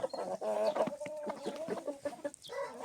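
Close, busy clucking from hens out on snow, several birds calling in quick overlapping bursts.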